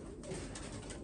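Iraqi pigeons kept in a loft coo softly and far off, their low murmuring nearly buried under steady background rumble and hiss.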